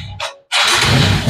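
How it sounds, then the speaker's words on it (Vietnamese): Viva motorbike engine after refuelling: a short cranking burst and a brief pause, then the engine catches and settles into a loud, close, steady idle. "Bây giờ chúng ta nổ máy lại cái con 3BD này nha."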